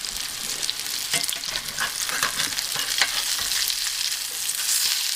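Salisbury steak sizzles in bacon fat in a cast iron pan, a dense, steady frying hiss with crackling pops and occasional stirring scrapes, close up and with no voices.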